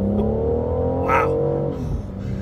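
A BMW M760i full-size luxury sedan with a giant engine, driven in sport mode, gives a steady, loud engine drone that swells briefly as it accelerates. No one speaks.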